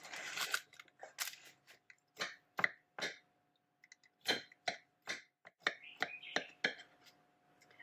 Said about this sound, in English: So while the brownies are still warm, I cut them into pieces.